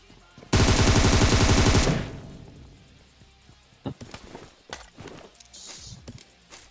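Gunfire in the video game PUBG Mobile: a loud, rapid burst of automatic fire for over a second, then scattered thuds, clatter and footsteps follow more faintly.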